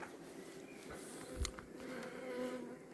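A swarm of honey bees hums around a Dadant hive outdoors, a faint continuous buzzing with a brief nearby thump partway through and no voices.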